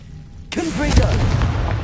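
Confringo fire-blast spell from Hogwarts Legacy erupts after half a second of quiet: a sudden booming explosion that rolls on as a loud, crackling roar through to the end, with no talking over it.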